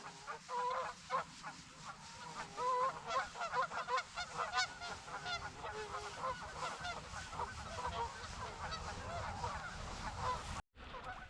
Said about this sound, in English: Those geese are beating the piss out of each other out there.